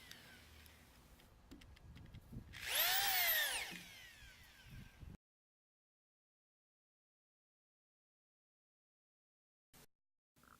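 A power drill drives a screw into a plywood halfpipe frame, whining up in pitch for a couple of seconds amid workshop noise before going quiet, with a faint click afterward.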